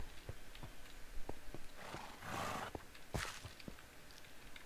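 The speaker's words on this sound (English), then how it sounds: "That sounds like a horse." Horse in Minecraft, heard as faint snorting and a short whinny-like breath amid quiet, regular clicking footsteps, soft and somewhat distant.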